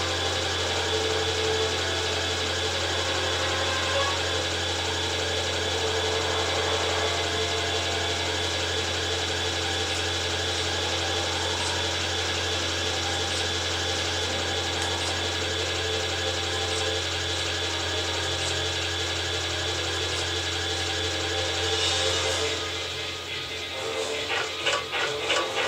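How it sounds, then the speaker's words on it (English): Elevator ride in the Ratchet and Clank video game on planet Oltanis, a continuous mechanical whir and hum with a low steady drone, ending with some clanking as it stops; no talk. "Get on this elevator."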